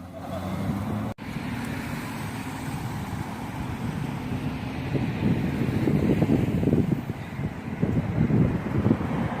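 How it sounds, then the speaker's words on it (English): Cars and trucks pass by on a city road in steady traffic, a continuous broad roar with a brief dropout early on and swells as vehicles go past, with wind buffeting the microphone. "Out of all these cars that are passing by"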